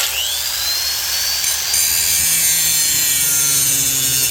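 A flap disc grinds on a Dodge Dakota ball joint, a harsh, steady abrasive whine running continuously, loud and close, with a gritty rubbing texture and no voices.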